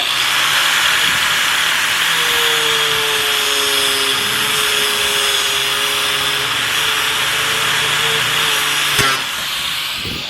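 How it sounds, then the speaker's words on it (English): An angle grinder cutting through a hose for a Honda oil catch can, a loud continuous whine with a high hiss whose motor tone shifts slightly as it works, ending with a brief clack as it winds down. "now I'm gonna go ahead and cut it with a grinder"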